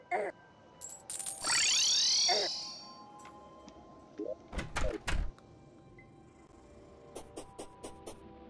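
A door swinging open in Terraria, heard as a short burst of clunky game effects amid sparkly chimes and scattered clicks, fairly quiet and alone with no talking.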